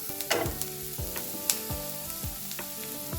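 Chopped onions and tomatoes fry together in a pan for an aloo mutter curry. A soft, continuous sizzle is broken by a series of sharp clinks and scrapes from stirring.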